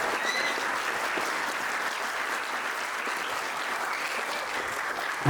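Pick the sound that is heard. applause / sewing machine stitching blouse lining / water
applause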